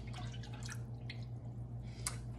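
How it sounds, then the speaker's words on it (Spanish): Milk is poured into Dominican arepa batter, giving faint liquid drips and splashes over a low steady background hum, with no talking. "Vamos a agregar una taza de leche normal."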